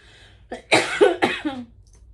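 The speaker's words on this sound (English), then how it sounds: "I'm going to cough." A few harsh coughs in quick succession, close and fairly loud, with a brief throat-clearing quality and no talking.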